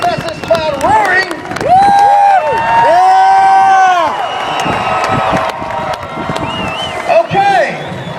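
A rally crowd in Oklahoma City cheers, whoops and roars loudly and continuously, with shouting voices and some clapping mixed through the dense noise.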